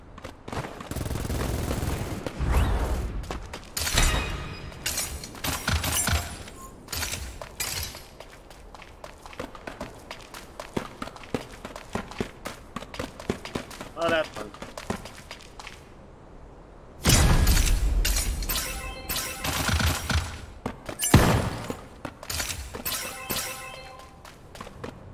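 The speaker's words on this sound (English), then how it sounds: "I hear gunfire. Keep your eyes sharp." Bursts of rapid gunfire and explosive cracks in the video game Super Mecha Champions come in heavy volleys with quieter stretches between, some shattering sounds mixed in, loud and close.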